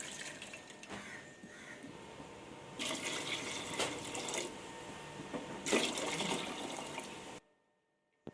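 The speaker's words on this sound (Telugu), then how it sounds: "ఇప్పుడు ఇందులోనే మనం ఈ పులుపు తగ్గ నీళ్ళు పోసుకుందాం" Water being poured from a vessel into a pot of mashed tomato rasam in a home kitchen, a steady splashing pour in bursts that swells louder near the end, then cuts to near silence.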